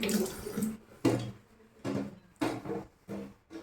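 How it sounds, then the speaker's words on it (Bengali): Hands being washed under a running kitchen tap in a home, water splashing in bursts that stop and start several times, fairly close and loud, with no talking. "হাত ধুচ্ছি"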